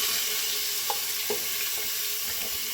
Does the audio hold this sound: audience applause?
no